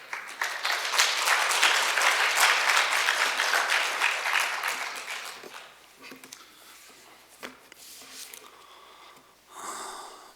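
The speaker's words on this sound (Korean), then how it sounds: "우리 목사님 나오실 때 힘찬 박수로 환영하겠습니다." A church audience gives a loud, sustained round of applause to welcome a pastor onto the stage. The clapping builds quickly, holds for about five seconds, then fades to scattered claps and room noise.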